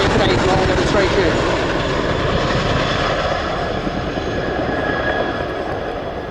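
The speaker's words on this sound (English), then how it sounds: "As the Chinook begins its second pass of the dog bone" A Chinook twin-rotor helicopter flies a display pass at an air show, RIAT 2024, giving a loud, steady, broadband rotor and engine roar that fades slightly over the pass, with a commentator's voice under it.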